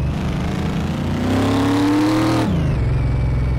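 A car engine in Car Mechanic Simulator 2018 revs and accelerates steadily, pitch climbing loudly before dropping as it shifts, then climbing again; a continuous, close, synthetic-sounding motor drone.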